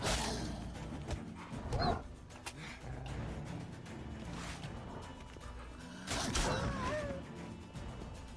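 Dogs barking, yelping and snarling during a fight in The Witcher 3, with thuds and whacks of combat blows mixed in; loud, busy bursts with sharp yelps near the start and again toward the end, no talking.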